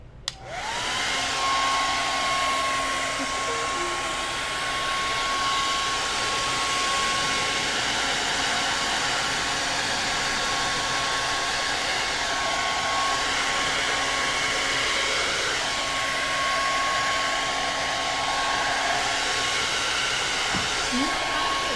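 A hair dryer blows steadily to dry paint on a wooden Christmas sign, a loud, continuous whirring rush with a constant whine that runs nearly the whole time with no talking.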